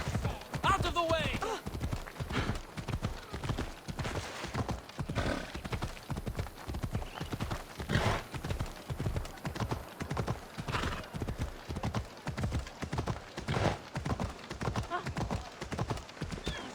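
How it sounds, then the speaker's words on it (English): Steady clip-clop of horse hooves at a brisk pace with a whinny near the start, ridden through the Assassin's Creed Odyssey game world, with someone talking intermittently over it. "It's a very nice horse. A sturdy horse."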